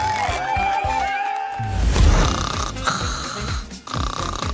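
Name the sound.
girl snoring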